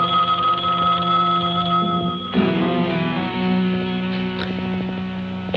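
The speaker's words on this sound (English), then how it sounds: "answer the phone." A telephone rings with a steady electronic tone that shifts partway through, loud and continuous, with no voices.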